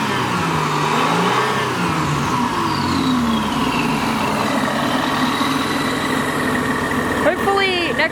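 A supercharged Magna car engine revs and idles, rising and falling engine tones with a high supercharger whine riding on top, loud and close, ending in a sharp rev near the finish.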